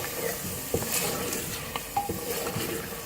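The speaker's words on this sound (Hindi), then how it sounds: "देखिए गोश्त को हम तेज़ आंच पर भून रही हूँ ऑयल डाल के।" Pieces of meat (gosht) for aloo gosht fry in oil over high heat, giving a steady close sizzle with a few soft knocks and scrapes from stirring.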